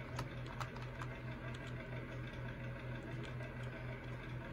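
An old combine harvester engine runs steadily at idle, a continuous low mechanical drone with a faint vibrating hum, close and alone.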